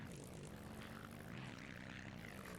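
An Allison V12 aircraft engine with a huge supercharger, fitted to a monster truck in the BeamNG.Drive driving game, gives a steady, dense propeller-like drone, fairly quiet and unbroken, with no voices.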